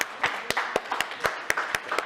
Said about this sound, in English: Let's give him the round of applause.